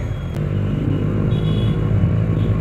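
A loud Benelli TNT 300 motorcycle rumbles close by with a deep, steady engine drone, no voices.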